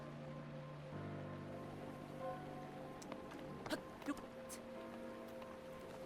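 Rain falls softly in The Legend of Zelda: Breath of the Wild, a faint, steady patter under a low hum, with a couple of brief clicks and no talking.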